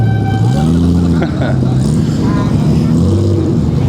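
Several customised Mini cars rev their engines nearby at a motor show, pitch rising and falling in rapid bursts, with people talking over the noise.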